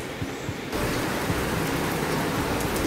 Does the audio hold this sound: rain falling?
yes